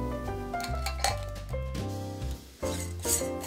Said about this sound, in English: Once the bath salts are mixed together, I'm scooping them into some mason jars.